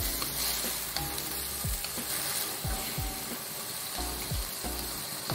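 Food sizzles steadily in a hot pan while a spatula scrapes and stirs it at intervals, making sliding scraping strokes close to the microphone over the constant crackle of frying.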